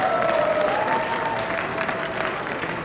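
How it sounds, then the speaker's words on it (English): Audience applause at an anime convention closing ceremony in Milwaukee as Tonari Animation is called to the stage, a steady wash of clapping mixed with light crowd noise, close and even throughout. "Please give them a round of applause,"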